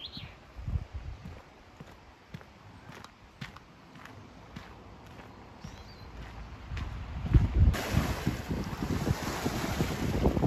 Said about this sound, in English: Wind's just starting to pick up a little bit.